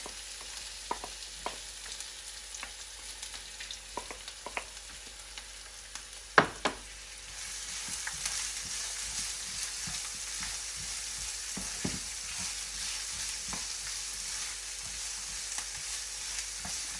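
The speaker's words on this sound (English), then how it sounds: "You need to fry the onions at least for 10 minutes until it's golden brown in color" Onions frying in a pan for rajma curry, a soft sizzle with scattered stirring taps that swells into a steadier, louder hiss halfway through, nearby and with no talking.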